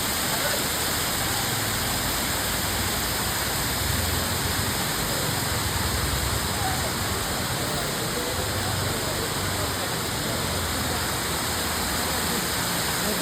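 Bakthang Waterfall in Gangtok, Sikkim roars steadily as a dense, unbroken wash of falling water, loud and close throughout, with a faint voice buried beneath it.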